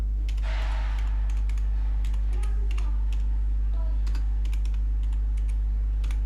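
Steady clicking of keys on a computer keyboard during logo design work, quick irregular bursts with short pauses, up close over a constant low electrical hum, no talking.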